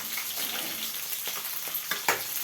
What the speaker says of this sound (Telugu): నెక్స్ట్ ఆనియన్స్ వేయాలి. ఆనియన్స్ కూడా కొద్దిగా ఆయిల్లో వేగిన తర్వాత